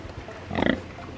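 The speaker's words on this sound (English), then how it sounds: "Muddy pig right now? Are you such a loud pig?" A muddy pig gives a short burst of deep, snuffling grunts, close and moderately loud, rising and fading within about a second against quiet farmyard background.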